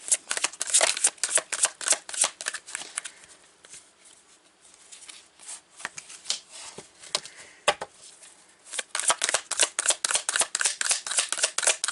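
Tarot cards are riffled and shuffled in rapid crackling bursts, loud at first, quieter and more scattered in the middle, then fast again, close up with no talking.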